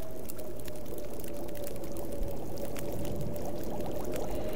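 Water pours steadily and continuously for about four and a half seconds in the survival video game The Long Dark, a smooth, even stream with no voices over it.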